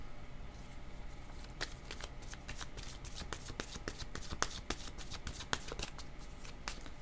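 Tarot cards shuffled by hand: a continuous run of crisp, close riffling snaps and slides, irregular but dense throughout, with no voice over them.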